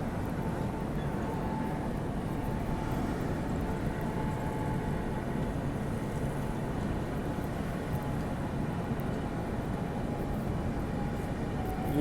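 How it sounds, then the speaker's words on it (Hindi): Humsafar Express passenger train picking up speed between New Delhi and Prayagraj, heard from inside: a steady low rumble of wheels on rails with constant broadband roar, loud and unbroken for the whole stretch. "अच्छा पिकअप ले लिया है ट्रेन ने"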